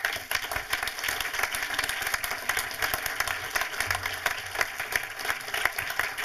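Steady, full applause rolls through an audience at a film talk honoring a film editor, a dense continuous clatter of many hands at a moderate distance with no voices over it.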